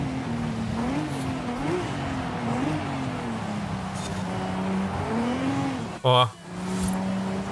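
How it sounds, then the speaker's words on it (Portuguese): A Lamborghini Huracan in Forza Horizon 5 holds a wavering engine drone, then a sharp tire squeal skids near the end. Someone speaks over it. "o Marvado derrapou e os caras já estão na cola."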